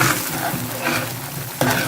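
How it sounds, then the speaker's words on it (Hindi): Custard powder halwa stirred and sautéed in a pan, a steady soft sizzle with scraping spatula strokes and a louder scrape near the end, no talking. "अब इसे हम 10 से 15 मिनट और भूनेंगे।"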